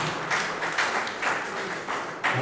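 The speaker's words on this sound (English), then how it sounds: "All right, let's give a round of applause." An audience at a Tshwane Super League auction claps throughout, a dense, continuous patter of many hands at a steady level with slight surges.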